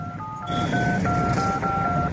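A rapid run of telephone touch-tone dialing beeps, steady two-tone pulses in quick succession, loud and close over a soft background murmur.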